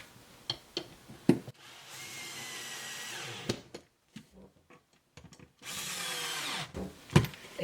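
A power drill drives a screw into a wall anchor for a pegboard, with two sustained whirring runs, one about two seconds long and one shorter near the end, separated by clicks and handling knocks, close and loud.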